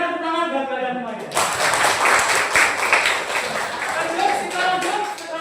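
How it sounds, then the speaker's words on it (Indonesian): A class group in a school session breaks into applause after a voice finishes speaking, many hands clapping loudly and steadily close by for several seconds. "tepuk tangan buat kalian semuanya"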